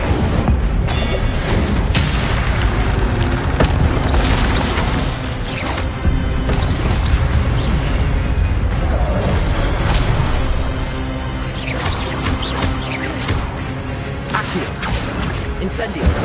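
Dense Hogwarts Legacy spell combat: Incendio fire blasts with crashing impacts and whooshes repeat through a loud, continuous game mix, with a voice calling out spell names over the action.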